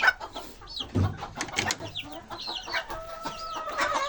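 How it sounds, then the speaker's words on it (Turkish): An Ispenç hen clucks close by with her four chicks, whose thin, high peeps overlap the hen's low, irregular clucks throughout. "Dört tane ispenç civcivle ispenç tavuğumuz burada dostlar."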